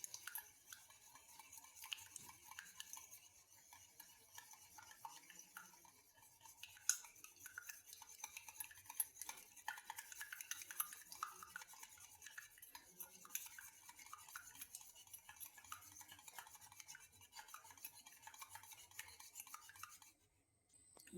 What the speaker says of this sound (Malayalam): ഫോർക്കോ സ്പൂണോ എന്തെങ്കിലും വെച്ച് നല്ലോണം പതച്ച് എടുക്കാം